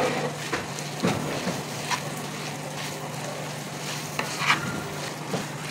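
A spoon stirs chicken samosa filling mixed with ketchup in a pan, scraping and tapping at irregular intervals over a soft ongoing sizzle, close by and without talk.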